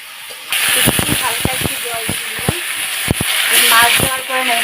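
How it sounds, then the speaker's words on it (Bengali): Small chapla fish hit a hot pan with a sudden burst of sizzling that continues as a bright, steady hiss with crackles, while someone talks over the frying. "এখন চাপলা মাছগুলো ছেড়ে দিচ্ছি"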